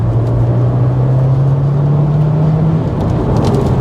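A Subaru Impreza STI Spec C GVB rally car in sport sharp mode accelerating, with a loud, steady engine drone that climbs gradually in pitch over a few seconds, heard up close from inside the car.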